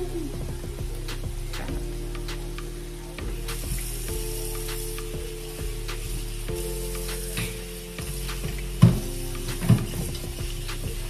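Steak frying in a small frying pan gives a steady, close sizzle with a low background hum, plus a few sharp clatters and knocks near the end.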